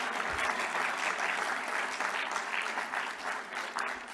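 Audience at a CPAC Mexico 2022 conference speech breaks into steady, dense applause, a continuous wash of clapping held at even loudness throughout with no voices over it.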